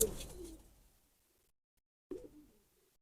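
A pigeon coos near the mic in one low, soft call that fades out, then after a silence a second brief coo starts.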